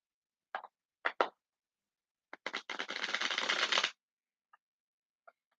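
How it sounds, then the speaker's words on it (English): Tarot cards are handled in a few quick separate flicks and taps, then shuffled in one steady riffle lasting over a second, with a couple of soft clicks afterward in a quiet room. "it was very hard to shuffle the cards at that moment"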